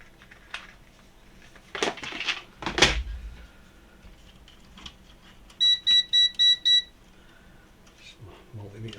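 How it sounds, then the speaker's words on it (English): A multimeter switching off gives five short, evenly spaced, high electronic beeps close by, after a couple of brief handling knocks and rustles on a workbench. "Multimeter switching off."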